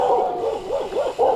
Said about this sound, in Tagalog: Daming aso dito sa Mindoro.